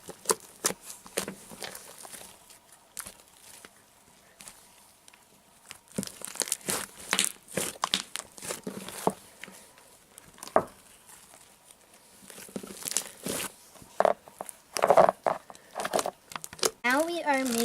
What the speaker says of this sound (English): So this is an ASMR of Grace's trick cereal slime,